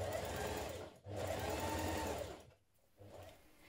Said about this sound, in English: Now stitch your central stitching line, which forms your casings